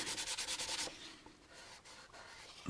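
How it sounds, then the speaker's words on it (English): Hand sanding of paint on a plastic AMT U.S.S. Enterprise model kit, with a rapid, close back-and-forth rubbing rhythm for about a second before it stops into near silence. "I'll go this way for the cross sand."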